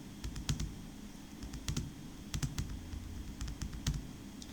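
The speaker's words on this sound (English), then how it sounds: "I have typed RI Roy in the last name column" Rapid clicking of computer keyboard keys while entering names into an Access database table, in uneven bursts of close keystrokes with short pauses between words, and no one talking.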